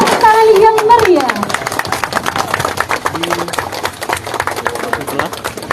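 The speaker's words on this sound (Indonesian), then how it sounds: "Berikan tepuk tangan yang meriah." Lively clapping at a ceremonial jug-breaking for a maggot-farming export launch, uneven claps under voices and crowd noise, with a brief ringing tone at the start.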